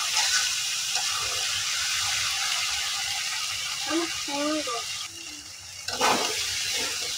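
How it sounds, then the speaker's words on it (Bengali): Rice frying in a pot at home, a steady close hiss and sizzle running throughout, with a few soft stirring scrapes and a short bit of speech partway through. "তো চালটা ভাজা ভাজা হয়েছে, নিচ থেকে লেগে লেগে আসতেছে"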